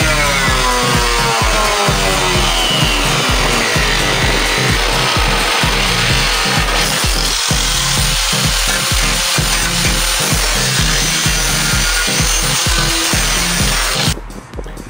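A power saw cuts a hole through a car bonnet, a loud, continuous rasping buzz with a steady rhythmic stroke pulse that runs unbroken for about fourteen seconds before cutting off.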